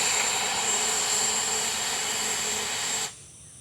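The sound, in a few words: Freewing Ares 8S 90mm RC jet using reverse thrust on landing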